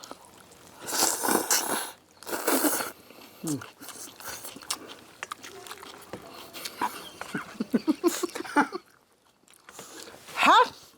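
Someone eats spicy Korean country-style bibim noodles with crunchy Cheongyang peppers and green onions, giving close wet slurps and chewing in short bursts, with brief voiced murmurs between mouthfuls.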